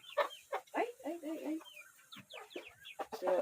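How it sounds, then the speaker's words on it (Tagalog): Chickens cluck and murmur close by in short, uneven bursts, with a few higher squawks mixed in. "So, ito yung ating manok."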